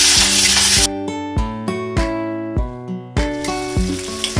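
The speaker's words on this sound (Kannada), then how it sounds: "ಇವಾಗ ಇದನ್ನ ಚೆನ್ನಾಗಿ ಫ್ರೈ ಮಾಡಬೇಕು." Ingredients sizzling in a spoonful of hot oil in a pan for tomato egg curry, a loud steady fry with rhythmic stirring knocks of a spoon against the pan, close up and without talking.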